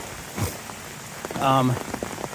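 Rain pattering steadily on a camping tent along a long-distance trail, a close, even patter with a brief voice-like tonal sound partway through.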